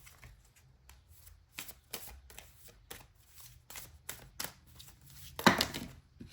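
Tarot cards being shuffled by hand, heard as soft, repeated riffling and shuffling with a louder flurry of cards near the end.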